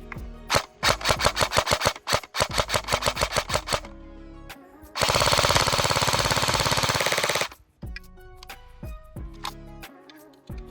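LCT TP5 airsoft MP5 replica firing rapid full-auto bursts, sharp mechanical clatters in quick rhythmic strings, then a long dense continuous burst, followed by scattered clicks and handling noise, close and loud.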